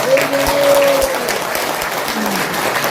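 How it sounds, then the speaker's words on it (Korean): Audience at a forum on early voting applauding steadily through the whole stretch, with a brief tonal sound over the clapping early on. "박수 한번 부탁합니다."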